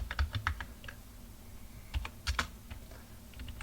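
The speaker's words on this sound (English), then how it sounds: "Let's type one more value." Keys clack on a computer keyboard as values are typed into a database, short irregular bursts of close, crisp taps with pauses between, quiet and without speech.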